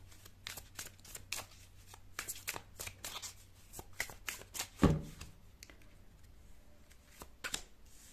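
Tarot cards shuffled by hand, rapid papery riffles and flicks in quick bursts with one louder slap midway, close and clear with no talking.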